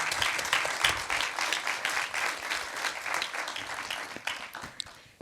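An audience at a future-of-work summit claps for its panelists, a dense, even round of applause from a mid-sized crowd that continues steadily before thinning slightly near the end.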